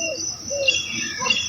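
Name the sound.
sparrow chirping in a cartoon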